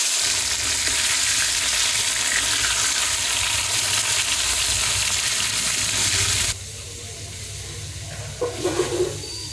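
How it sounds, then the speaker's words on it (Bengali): Hilsa fish pieces fry one by one in hot mustard oil, a loud dense sizzling hiss close to the pan that drops abruptly to a quieter sizzle partway through, followed by a few clattering handling sounds. "এখন মাছগুলো হালকা করে আমি ভেজে নেবো এক এক করে।"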